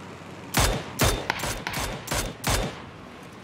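Gunfire from a weapon fired while riding a glider in a video game, five loud sharp shots spaced roughly half a second apart, close and alone over faint wind and ambient noise.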